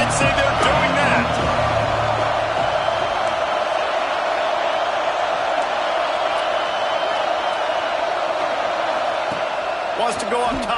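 A stadium crowd at a football game roars in a sustained, loud wash of cheering, with a commentator's voice over it at the start and end.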